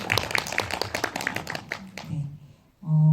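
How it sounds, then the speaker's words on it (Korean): Audience at an indie film talk after a screening of the movie Usu claps in a brisk burst of separate handclaps that thins out and fades within about two seconds, followed by a brief low tone. "힘내시라고 박수."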